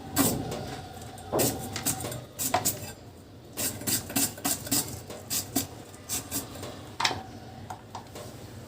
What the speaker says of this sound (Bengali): তো প্রথমে পেঁয়াজগুলো কেটে নিচ্ছি